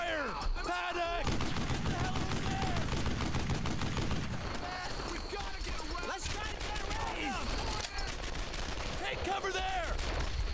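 Rapid, loud World War II gunfire in Brothers in Arms: Earned in Blood, with rifle and machine-gun bursts crackling steadily throughout while soldiers shout orders over the shooting.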